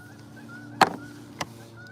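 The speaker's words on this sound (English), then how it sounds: "Here comes a goose, a couple of geese coming in hot." Two short honks from geese flying in, one after the other about half a second apart, faint and somewhat distant over a quiet outdoor background with a faint steady tone.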